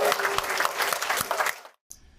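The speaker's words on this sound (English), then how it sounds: "May I have a round of applause for these folks?" Audience applause for a police chief and superintendent at a community event, a dense wash of clapping that holds strong before tapering off and cutting to near silence.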